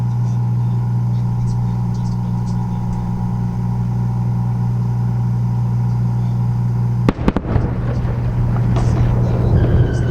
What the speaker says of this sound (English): And the landing burn has begun.